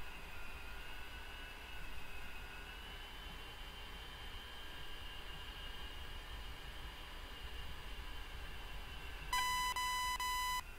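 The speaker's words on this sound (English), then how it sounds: "You can see my radar warning receiver is quite loud." Cockpit ambience of an A-10C in the DCS flight simulator with steady engine drone and a thin tonal whine, then a loud repeating radar warning receiver beep tone bursting in near the end.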